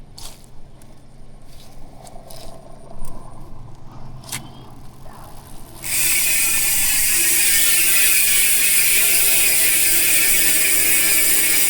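Rapid, continuous ratcheting clicks of a PH 3.1 mountain bike hub freewheeling on a 29-inch FORT IXMIR rigid MTB, loud and close, starting after a few seconds of faint handling noises and taps.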